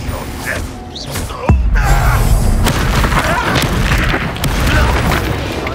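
A Confringo fire spell detonates in Hogwarts Legacy during a mine battle, a sudden loud boom with a rumbling tail amid game action and shouted character voices.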